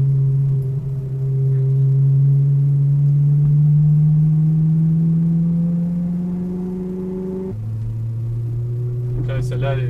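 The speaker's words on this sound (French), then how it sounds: "elle a un V8 au niveau du moteur. V8 400 chevaux. Tu vas voir qu'on accélère." A Ferrari with a 400-horsepower V8 engine accelerates from inside the car, a loud steady drone climbing slowly in pitch, dropping after a gear change and then rising again.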